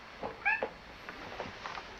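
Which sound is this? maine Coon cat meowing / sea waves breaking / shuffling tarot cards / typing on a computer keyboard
maine Coon cat meowing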